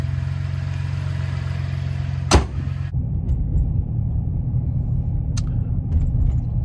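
A Chevrolet Colorado ZR2 pickup with a ported intake and throttle body pulls away, a steady low engine rumble with a sharp click partway through, close and unaccompanied by talk.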